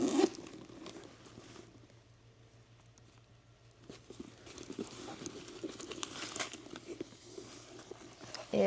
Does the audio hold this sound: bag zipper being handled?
yes